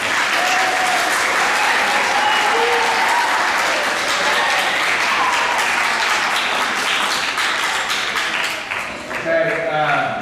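A school awards assembly audience applauds loudly and steadily in a large room, a dense wash of clapping with some voices mixed in that briefly dips and swells near the end.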